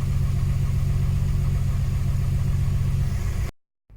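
A Toyota Supra mk3 engine idling, a steady, loud, close rumble with an even pulsing rhythm that runs for several seconds and then cuts off abruptly.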